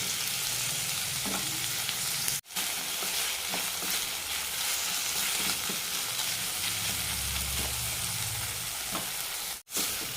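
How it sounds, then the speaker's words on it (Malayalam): Tomato sautéing in a pan as the base for a hotel-style Kerala fish mango curry, giving a steady, close sizzle with occasional stirring scrapes and two brief cutouts, no voices. "തക്കാളി വേവുന്നവരെ ഒന്ന് വഴറ്റിയെടുക്കാം."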